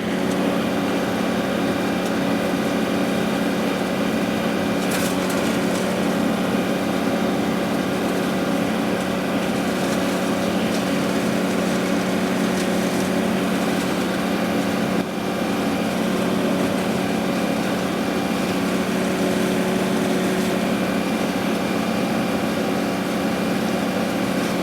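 Offset flail mower on a John Deere 2038R tractor cutting a ditch bank, a steady continuous engine drone with whirring mower noise throughout, fairly close and unbroken, with no talking.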